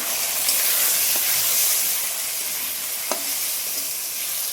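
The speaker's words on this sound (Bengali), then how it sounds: "আলুটা একটু ভেজে নিলাম। দিয়ে দিলাম লঙ্কা আর হলুদ।" Potatoes fry in a pan with chili and turmeric, giving a constant close, bright sizzle with a couple of faint taps of a utensil and no voices.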